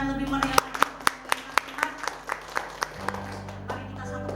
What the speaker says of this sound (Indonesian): Berikan tepuk tangan lebih meriah.